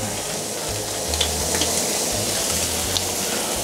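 Carrot tagliatelle sizzles and fries steadily in a hot pan, a continuous broad crackling hiss with no talking throughout.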